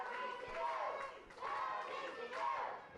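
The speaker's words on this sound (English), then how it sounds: "Crowd solidly behind DC" A wrestling arena crowd roars and cheers behind a tag team champion during a match, swelling in loud repeated waves of voices with brief dips between surges.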